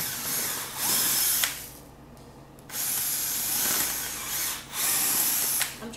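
Power drill boring out holes in a deer mineral block, whining in three loud bursts separated by short pauses, close and alone.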